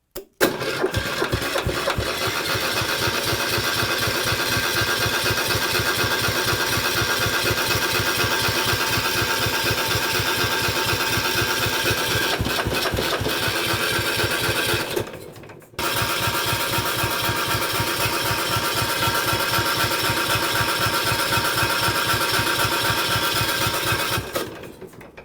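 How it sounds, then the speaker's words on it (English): A single-cylinder diesel ride-on mower engine cranking over with the decompressor held, a fast steady mechanical chugging that runs continuously, stops briefly, then resumes without catching. "if I can hold the decompressor lever as well, we'll be able to make the engine turn over even faster"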